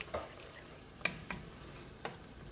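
A spoon stirs Worcestershire sauce into beef stroganoff simmering in a pan, giving a few distinct scraping clinks against a soft background sizzle, close by and fairly quiet.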